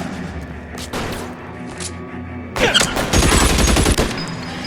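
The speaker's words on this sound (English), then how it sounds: "Covering fire!" Gunfire in the L.A. Noire video game breaks out in a dense burst of rapid shots and booms midway, following a quieter stretch of distant action ambience, loud and close.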